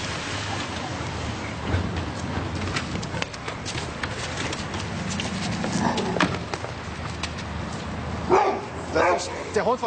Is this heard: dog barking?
yes